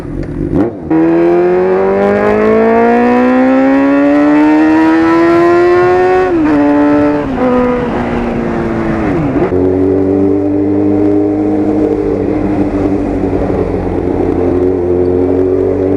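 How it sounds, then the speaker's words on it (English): A car accelerates past close and very loud, its engine note climbing steadily, dipping briefly as it shifts, then settling into a lower, fading drone. "Holy shit, that is a really nice car"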